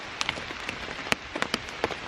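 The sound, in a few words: heavy rain falling at a campground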